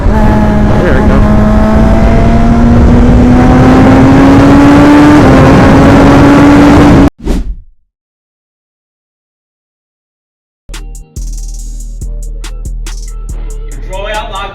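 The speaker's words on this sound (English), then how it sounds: "I need to learn how to downshift, hold the clutch, and blip the throttle all at the same time" A Suzuki GSX-R 1000 sportbike revs hard with a rising engine whine, then cuts out suddenly into silence before the engine note returns with rapid pulses, loud and close; the throttle blips are not clearly separated.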